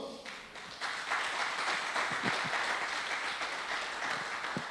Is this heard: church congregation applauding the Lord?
yes